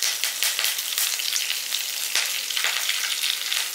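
A handful of curry leaves sputters in hot oil along with broken cashews, a dense, steady sizzle with crackling pops throughout, close and loud, no voices.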